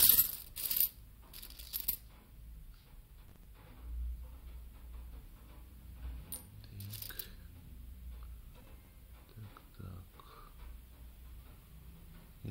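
Soviet 50-kopeck coins being sorted and dropped: scattered light metallic clinks and taps, some in quick clusters and others single, close by against a quiet background, with faint handling noises between them.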